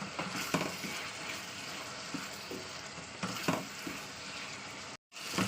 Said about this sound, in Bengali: এবার ভালো করে তেলের সঙ্গে এটা কষিয়ে নেবো